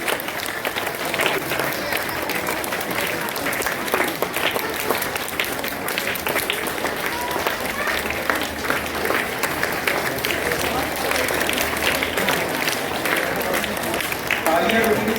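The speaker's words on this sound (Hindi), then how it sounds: "तालियां रुकनी चाहिए आप लोग।" Sustained applause from an audience at a school award ceremony, dense and steady clapping filling the room for the whole stretch, with voices mixed in beneath it.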